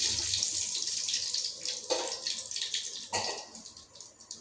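Mustard seeds and curry leaves sizzle in hot oil while a cauliflower curry is being tempered, giving a steady, close crackling hiss with two sharper bursts of spitting partway through.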